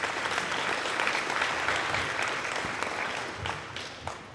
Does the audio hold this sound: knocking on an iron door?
no